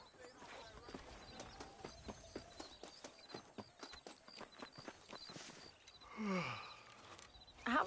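Horse hooves in a Red Dead video game, an even walking clip-clop of single distinct hoof strikes, fairly quiet, followed near the end by a louder burst of other game sound.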